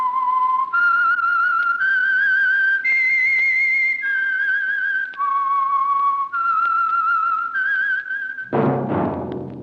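A clear whistled melody of about eight sustained notes steps up and down in pitch, the signal tune of a radio program, ending with a sudden burst of orchestral sound.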